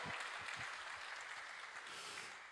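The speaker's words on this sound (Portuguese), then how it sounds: "Vamos aplaudir a Cristo nesta noite, irmãos, porque Ele nos dá vitória." A church congregation claps for Christ in steady, dense applause that sounds faint and distant and tapers slightly toward the end.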